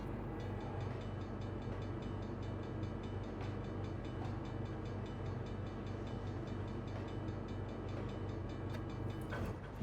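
Freight train in the Trainz 22 railway simulator, a steady low rumble of running wagons with faint rail clatter, continuous and even for the whole stretch with no talking.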